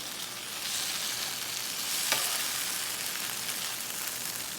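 Frozen Aldi chicken lo mein with broccoli sizzles and fries steadily in a pan, a close, even crackle with a brief scrape of stirring partway through.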